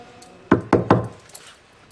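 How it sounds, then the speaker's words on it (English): Three sharp knocks on a wooden door in quick succession, close and clear, followed by a quiet pause with no talking. "So knock on the door."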